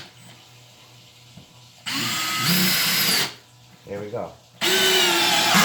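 A new Makita LXT brushless drill driver whirs in two loud bursts of high-speed spinning separated by a short gap, with a brief spoken line before the motor starts.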